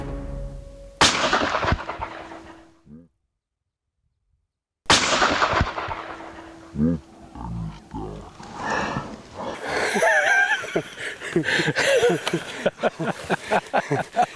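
Rifle shots ring out during an African hunt for wildebeest and impala, two loud sharp cracks with echoing tails separated by silence, followed by excited talking and breathing.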